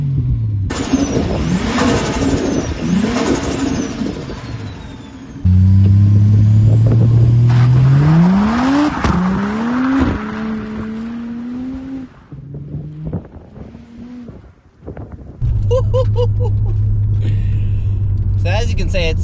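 A Toyota Crown JZS171 sedan accelerates hard through the gears, its engine note rising steeply with each pull and dropping at the shifts, loud and close from inside the car.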